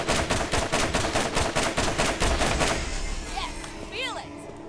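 Enemy artillery fires in a video game, a fast, loud, rhythmic run of close gun bursts for about three seconds, then easing into lighter background noise with faint chirping voices near the end.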